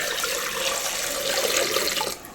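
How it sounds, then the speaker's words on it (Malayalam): Water poured into a pressure cooker holding washed potatoes, a steady close rushing stream splashing into the pot that cuts off abruptly near the end. "ഇനി നമുക്ക് കുറച്ച് വെള്ളവും ഒഴിച്ചു കൊടുക്കാം"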